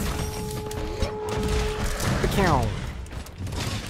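Firecracker explosions in a video game fight against a large enraged monster, a dense crackling burst of rapid pops and booms mixed with game effects and a tonal sweep, loud and continuous for several seconds.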